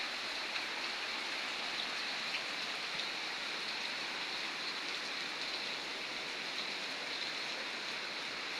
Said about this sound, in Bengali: এই যে বৃষ্টি দেখছেন। কঠিন বৃষ্টি হইতেছে, কঠিন বৃষ্টি।